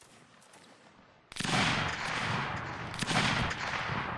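Rifle volley fire in Napoleonic Wars erupts after a quiet start, a sudden dense crackle of many muskets that rolls on continuously with a second swell of shots near the end.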